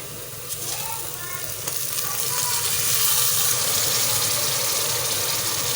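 Chopped frozen tomatoes hitting hot spiced oil in a pan for a masala dish, a rising, steady close sizzle that grows louder and fills the clip, with faint background noise.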